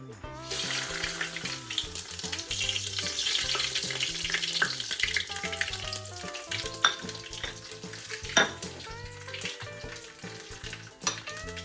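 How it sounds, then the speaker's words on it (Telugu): Mustard seeds, cumin and dried red chillies sizzle in hot oil in a home kitchen, a steady close crackle with sharp popping seeds and occasional clinks of a utensil stirring, no voices. "ఫస్ట్ వచ్చేసి ఆవాలు, జీలకర్ర, ఎండుమిర్చి మనం ఒకటేసారి వేస్తాము"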